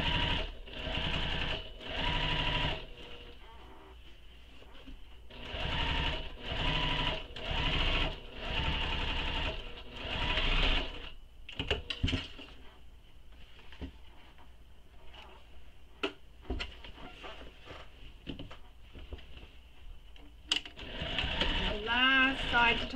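A sewing machine stitches a handbag seam that is pressed open, running in quick rhythmic bursts for the first half, then falling to scattered clicks and ticks before stitching again near the end.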